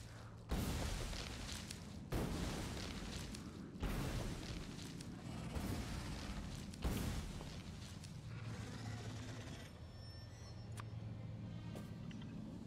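Grenades exploding to clear trees in the factory-building game Factorio, a series of heavy booming blasts about every one and a half seconds, each rumbling into the next, with later blasts softer.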